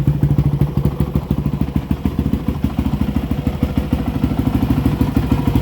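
A cold motorcycle engine idles close by with a rapid, loud, even thumping pulse and mechanical clatter, running steadily throughout without speech.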